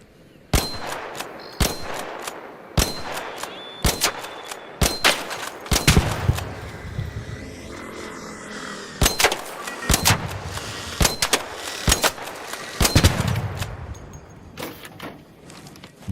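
A robot firing in a video game: sharp, loud shots come in irregular single bursts, spaced with short gaps and a dense cluster near the end, over a low game background.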